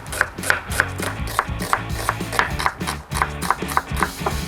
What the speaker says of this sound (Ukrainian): А для початку наріжемо цибулю цей раз буду нарізати цибулю довгими пір'ями.